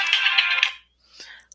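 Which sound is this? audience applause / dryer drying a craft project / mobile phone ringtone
mobile phone ringtone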